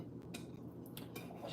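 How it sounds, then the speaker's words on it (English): A knife dices food on a board for marinating, giving a few quick, close clicks and taps scattered over a low steady background, with no talking. "Just dicing this up so it's ready to cook with"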